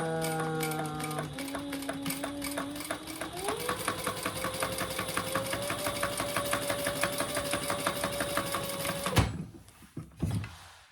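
A sewing machine runs steadily for about nine seconds, stitching a second row along the outer seams of a shoulder bag, with a rising motor whine and rapid needle clatter, then stops abruptly, followed by a few faint handling knocks.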